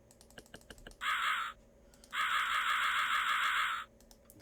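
A crow caws in the puzzle game Rusty Lake: Roots: one short caw, then a longer drawn-out caw, loud and near, preceded by light keyboard typing clicks.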